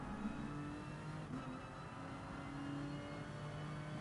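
Onboard race car engine during a race, a steady sustained drone heard close from inside the cockpit with little change in pitch, while another car closes in to pass.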